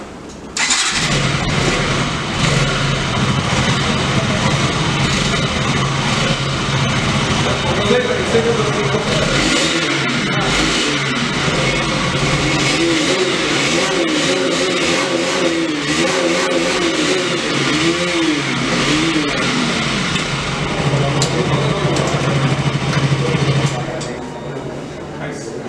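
A KTM RC 200 motorcycle engine starts and revs at a bike launch event, running loud and close for the whole stretch, then dropping near the end while people talk over it.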